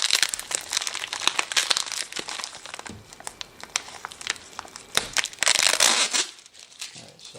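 Plastic packaging on a three-tier pet step for a dog crinkles and crumples in close, bursty handling with rustling peaks, and no voices are heard.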